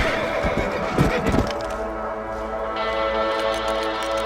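A horse in the Western video game Red Dead Redemption lets out a loud, shrill whinny, and its hooves clip-clop along under a steady game soundscape.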